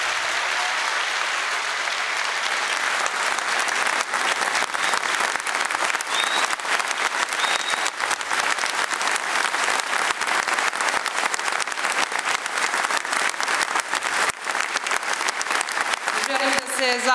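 Sustained audience applause at a Serbian Progressive Party anniversary event in Smederevo, a dense, loud crowd of clapping hands that carries on unbroken for many seconds, with a voice speaking briefly near the end.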